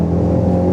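A Ford Focus RS pulls away in third gear, and its engine gives a loud, steady low drone heard from inside the car for under a second, with no speech.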